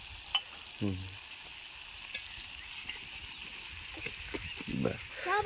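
Guar beans sizzling in oil in a pan, a soft steady frying hiss with faint stirring clinks and scrapes, close and quiet, with a brief voice and a few animal-like sounds in the background.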